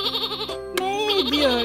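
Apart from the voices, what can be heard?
toy lamb bleating sound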